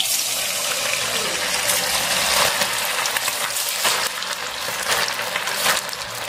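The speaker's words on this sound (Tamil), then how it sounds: "இப்போ நம்ம வந்து சிக்கனை வந்து கலந்து விட்டுட்டு ஒவ்வொரு பீஸும் எடுத்து நம்ம ஆயிலில் போட்டுக்கலாம்." Chicken pieces coated for pakoda frying in hot oil, a steady dense sizzle and bubbling that carries unbroken from start to finish at close range, with no one speaking.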